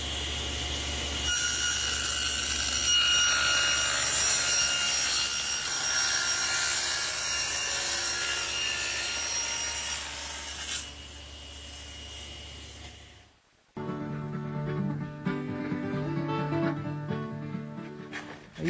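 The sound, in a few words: table saw cutting a tongue in wood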